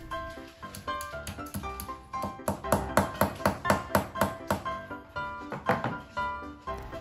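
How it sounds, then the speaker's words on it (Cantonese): Expansion bolts are hammered into a wall to mount a TV bracket: a steady run of sharp metallic strikes that ring slightly, close and fairly loud, with brief pauses between bursts. "將爆炸螺絲打入去。"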